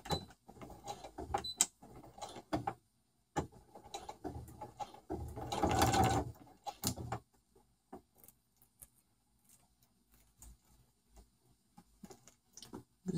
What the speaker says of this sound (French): Coudre les 2 pièces au point droit tout le tour, le plus près possible de l'extérieur de la bande.